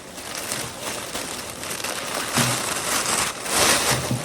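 Plastic shrink wrap crinkles and rustles loudly up close in uneven bursts, a crackling noise that swells and fades with no voices.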